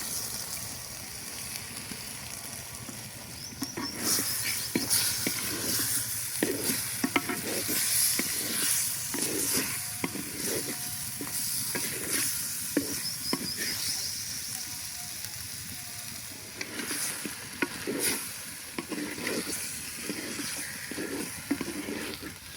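Chicken pieces sizzle in hot oil as soaked flat bean seeds are tipped in and stirred, with steady frying hiss, repeated scraping strokes of a spoon against the pan, and a few soft clinks, close and continuous.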